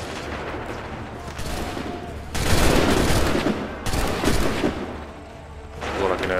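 Musket volleys in Assassin's Creed 3: loud, crackling bursts of massed gunfire, with a heavy volley near the middle and another toward the end, over a steady din of battle noise.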